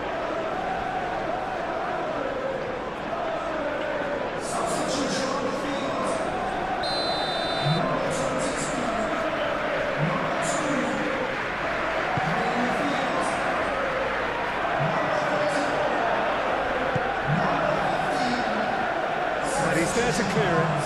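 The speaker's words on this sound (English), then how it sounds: "You can hear the annoyance in the crowd." Football crowd in eFootball PES 21 at an Everton vs Manchester United Premier League match murmurs and groans in annoyance, a broad swelling stadium roar under a commentator's continuous talk.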